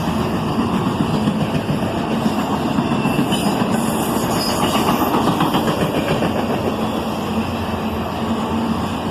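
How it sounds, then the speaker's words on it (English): A CSX autorack freight train passes close by on the Toledo subdivision. It makes a loud, continuous rumble and rolling rattle with rhythmic wheel clatter and squeaks that holds steady throughout. "These big autorack trains are a common sight here on the Toledo sub."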